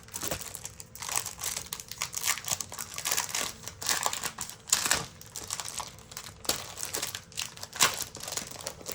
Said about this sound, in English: I open up all these packages kind of while I'm doing this